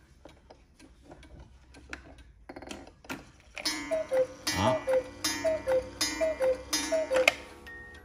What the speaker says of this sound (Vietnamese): 5 giờ thì 5 tiếng chuông, rất hay các bác ạ.